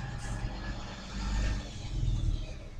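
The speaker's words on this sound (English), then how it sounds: "There's a big truck parked outside" A big truck parked outside idles nearby, a low rumbling engine drone with slight swells in loudness, heard indoors from a distance with no talk over it.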